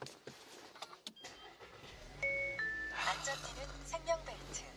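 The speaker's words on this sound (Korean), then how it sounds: "바로 요 차량 시동 한번 걸어보도록 할게요" A 2021 German sedan with around 30,000 km starting up from the driver's seat: a quiet starter whir and settling idle hum, with chimes, electronic tones and clicks, while someone talks over it.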